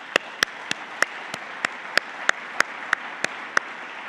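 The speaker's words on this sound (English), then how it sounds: "let's give them all a round of applause." Sharp, evenly spaced claps ring out every third of a second or so over a soft continuous wash of applause at a Nobel Conference gathering, the individual claps loud and close.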